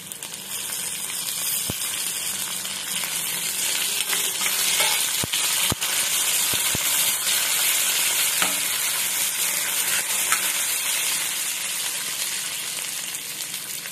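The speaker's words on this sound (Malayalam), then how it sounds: "ഇനി ഇതിലേക്ക് ആവശ്യത്തിലുള്ള കറിവേപ്പില കൂടെ ഇട്ട് കൊടുക്കുന്നുണ്ട്." Curry leaves crackle and sizzle in hot oil for a chickpea tempering, a dense steady frying hiss with a few sharp pops and stirring scrapes throughout, close and continuous.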